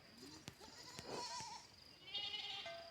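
Boer goats in a single-file dipping chute on a farm give several wavering bleats, fairly faint and somewhat distant, among soft clatter and background noise.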